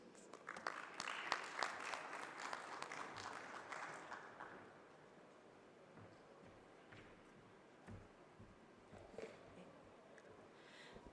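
Audience applause at a conference session on nature-based solutions for water systems, fairly full for the first four seconds and then thinning to scattered claps and quiet room noise.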